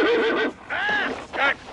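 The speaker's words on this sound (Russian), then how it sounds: "Этот конь ржет точно так, как Лина, когда ее щекочут." A horse neighing in three separate bursts, the first and third short and the middle one longer with a wavering pitch, close and fairly loud with no talk.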